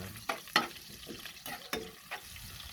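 Ginger being sautéed in a pan with garlic and pork, heard as quiet sizzling under several sharp stirring scrapes and clinks of a utensil against the pan.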